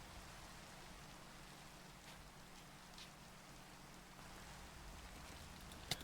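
Rain in the Minecraft video game: a steady, even hiss of falling rain that continues without a break, fairly quiet and with no voices over it.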